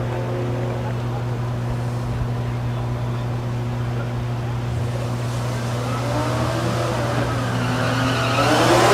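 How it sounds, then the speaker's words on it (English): Several true street drag racing cars idle and rumble at Thunder Valley in Noble, Oklahoma, a steady low engine drone that swells louder toward the end as one revs up. "Currently running true street cars out of lane number 1 through 8"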